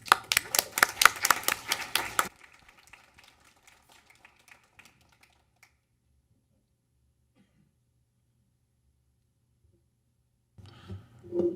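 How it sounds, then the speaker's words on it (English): A brief, sparse burst of clapping rises from a school board meeting room for about two seconds, followed by long near-silence with a few scattered taps and a faint stir of sound at the very end. "You deserve some applause."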